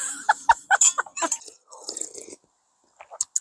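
Someone eating little kimbap up close, with soft crunchy chewing and mouth sounds in short bursts, quiet pauses between bites, and light whispery breaths.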